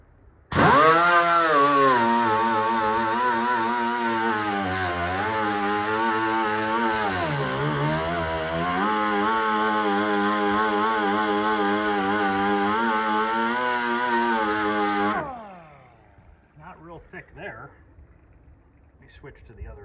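An angle grinder strips paint from the quarter panel of a 1964 Impala convertible, a loud, steady high whine lasting about fifteen seconds with slight pitch dips under load, then cutting off to near quiet.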